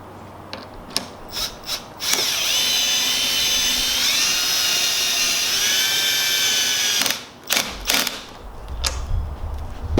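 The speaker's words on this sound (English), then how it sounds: "then we have a drill that we'll tighten down the bolts with" A power drill whirs steadily for about five seconds, a high motorized whine with slight pitch shifts, tightening bolts on a 2017 Honda Civic Si front splitter, framed by clanks and rattles of metal parts before and after.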